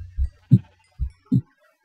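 A Minecraft sheep bleats four times in quick succession, giving short, clipped, low bleats with brief silent gaps between them, clear and close.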